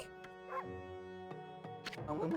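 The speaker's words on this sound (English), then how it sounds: "But I know that bark anywhere." A dog's short barks and whimpering yips from the wolf Ami in the game Okami, sounding quietly over a sustained musical drone.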